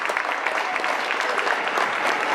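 An audience at a temple gathering breaks into strong, continuous applause, a dense, even clapping that fills the whole moment without pause.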